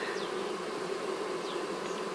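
Honey bees fan their wings continuously at the entrance of a wooden hive box, producing a steady close drone with occasional louder buzzes of individual bees passing by and no talking.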